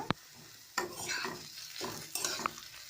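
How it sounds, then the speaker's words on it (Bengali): Sliced onions fry lightly in a pan, a soft sizzle punctuated by a few scraping stirs of a spoon against the metal, quiet and close with no voices. "পেঁয়াজগুলোকে একটু হালকা ভেজে নিচ্ছি।"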